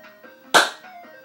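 A brief snatch of a jaunty ragtime tune plays during a funeral scene in a video game. Light, tinny melodic notes are cut by a sharp, noisy burst midway through.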